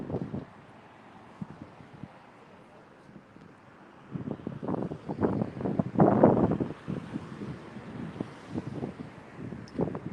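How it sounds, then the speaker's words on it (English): Wind buffeting a microphone outdoors in San Francisco, a low rumbling roar that starts light and then swells into stronger, uneven gusts partway through. "It's probably really windy on you guys' end."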